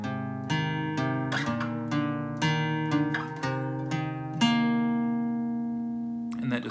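Guitar picking a riff, a string of clear plucked single notes over ringing lower strings, each note struck in a steady rhythm before the last one rings out, close and fairly quiet.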